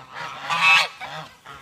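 Geese honk loudly and close by, several nasal calls overlapping in quick succession.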